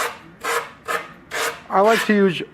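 Leather on a deer head form gets scuffed by hand, a series of four short rasping strokes followed by two longer, harsher scrapes, close and fairly loud, with no voices.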